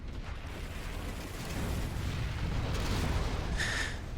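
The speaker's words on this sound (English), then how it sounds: "It's got to be Fuel Air Bomb." Fuel air bomb detonating in a real-time strategy video game, a deep rumbling blast that swells and rolls on for a few seconds, fairly muffled and distant, with a brief higher crackle near the end.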